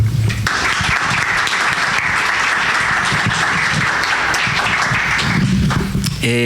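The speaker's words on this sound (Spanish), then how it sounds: "les solicitamos un aplauso para nuestro conferencista" Loud, sustained applause from a large audience welcoming a lecturer, dense and steady throughout, with a few scattered claps standing out near the end.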